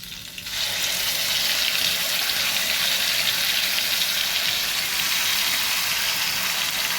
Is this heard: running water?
yes